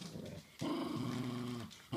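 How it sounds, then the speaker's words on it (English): Wet Chinese Crested dogs growl up close, one sustained, rumbling snarl swelling after a brief pause and holding loud for over a second before trailing off. "There the dogs go."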